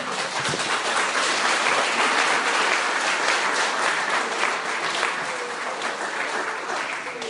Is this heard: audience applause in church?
yes